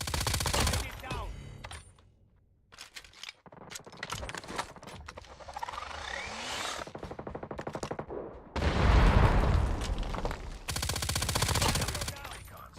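MG82 light machine gun in Call of Duty Mobile, bursts of rapid, evenly spaced shots, loud and close, separated by quieter stretches of game sounds.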